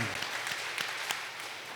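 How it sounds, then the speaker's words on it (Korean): A dense, steady round of applause from a church congregation during Sunday worship, many hands clapping continuously at moderate volume. "영광의 박수 드리도록 하겠습니다."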